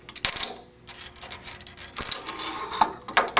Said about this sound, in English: You can remove this cap with a screwdriver